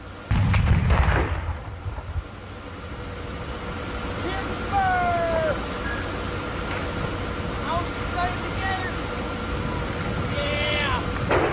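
A controlled demolition blast brings down a radio tower: one heavy, low boom lands in the first second and decays into rumble, followed by steady outdoor background with scattered high chirps.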